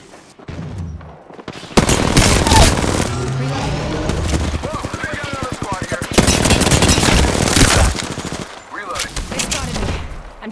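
Rapid automatic gunfire from a firefight in Apex Legends, loud and close, coming in long sustained bursts with brief pauses and heavy booming shots throughout.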